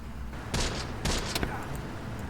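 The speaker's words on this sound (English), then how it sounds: "our rifle team went ahead and opened up on them" Rifle team firing in the video game Close Combat, urban warfare: several short bursts of gunfire in quick succession, moderately loud over a steady background.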